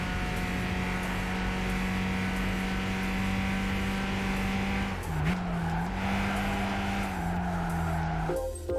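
Loud race car engine in the Gran Turismo video game, a steady high drone held for several seconds, then dipping and wavering with shifts and a tire squeal near the end, no talk over it.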